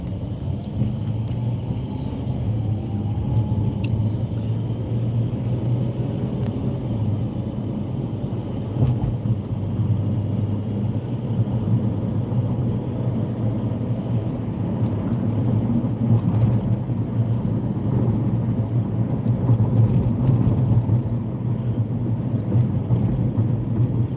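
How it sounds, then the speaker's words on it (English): Steady road traffic with cars passing near a strip mall and a construction zone, a continuous low rumble of engines and tyres that swells slightly toward the end, with no talking. "still, good little bit of traffic. I can get the cars where I can see them."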